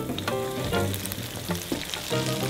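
Mustard-dipped breaded fish deep frying in hot oil, a loud close crackling sizzle that stays constant with a few stirring scrapes, no one talking.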